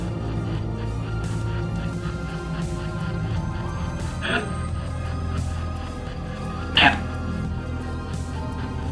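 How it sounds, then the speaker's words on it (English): A dog barks twice, sharp isolated woofs a few seconds apart over a steady low hum in an indoor setting. "That's a dog."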